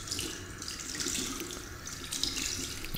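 A sink tap runs in the video game Fahrenheit Remastered, giving a steady, continuous rush of water that fills the whole clip with no talk over it.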